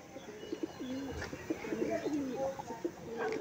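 King pigeons kept in a breeder's cage give soft, repeated throaty coos, rising and falling close by over a low background hum.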